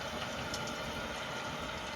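Farm tractor engine idling: a steady, close mid-low drone with a faint rhythmic knock, continuous and even, with no voices.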